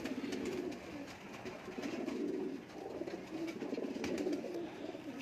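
Ferozpuri pigeons coo in soft, repeated throaty phrases that rise and fall in a steady rhythm, close by and moderately loud, with no voices.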